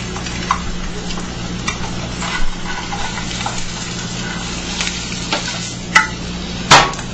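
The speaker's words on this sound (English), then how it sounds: "cracked the egg open and fried it" An egg frying in melted butter in a pan, a steady soft sizzle with scattered scraping and clicks of a utensil, close and without talk.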